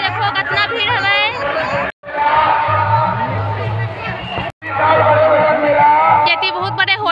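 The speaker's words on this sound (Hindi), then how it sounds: "ये देखो कितना भीड़ हवा है।" Dense crowd chatter at a busy fair with stalls selling griddles and slingshots, a steady babble of many voices broken by two brief dropouts.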